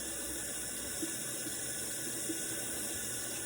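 Water runs steadily from a bathroom sink tap while a face is wetted during a skincare routine, a constant close splashing hiss with a few faint drips and knocks, no voices.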